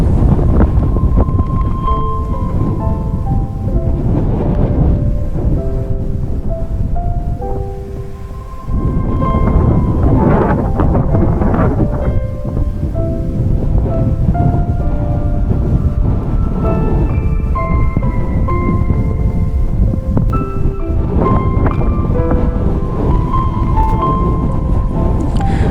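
Strong wind on Mount Sumbing, a continuous loud roar buffeting the microphone with surging gusts, with a few steady tonal notes sounding over it.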